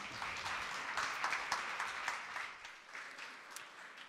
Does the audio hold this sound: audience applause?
yes